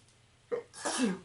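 A single sneeze close to the mic: a quick sharp intake followed by a forceful burst, with a low voice right afterward.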